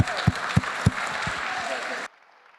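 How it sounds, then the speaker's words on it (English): Audience applause fills a room at a biotech startup pitch event, a dense steady wash of clapping with a few sharp nearby claps, ending abruptly with a quiet room tone. "Please, let's give them a huge round of applause."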